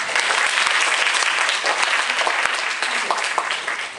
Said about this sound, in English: So everyone, please give Eva a big round of applause again.